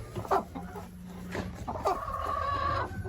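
A broody hen clucks in a nest box on a homestead: a few close, sharp clucks, then a longer drawn-out grumbling call near the end, against faint background noise.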